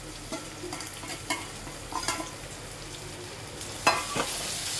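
Grated coconut fries with melting jaggery in a pan for a Goan cashew sweet, making a continuous near sizzle broken by soft scraping stirs and a few sharper clicks.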